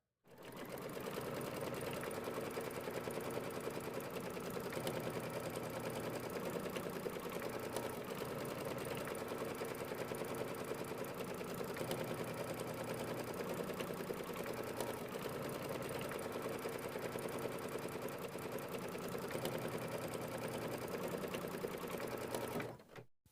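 Sewing machine running steadily for over twenty seconds, stitching a satin stitch and then a top stitch on a quilt block; a constant close mechanical whir with a fast needle rhythm and no talking.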